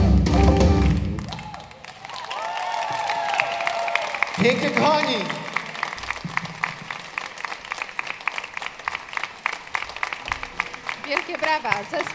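An audience at a Christmas carol concert claps loudly and warmly at first. The applause then thins into scattered claps while a voice speaks over a microphone.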